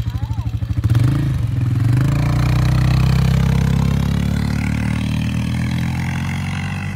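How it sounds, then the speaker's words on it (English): A Polaris Scrambler 500 ATV runs out in the sand dunes, its engine giving a steady, close, low rumbling drone that picks up and holds through the clip after a choppier start. "Rachel and I brought the Polaris Scrambler out"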